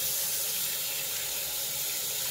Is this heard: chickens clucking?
no